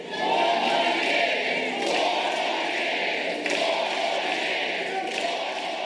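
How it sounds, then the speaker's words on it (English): A large crowd at a political rally chants in unison, producing a loud, sustained roar of many voices that stays dense and close throughout with little variation in level. "eventually drowned out by chants from the crowd"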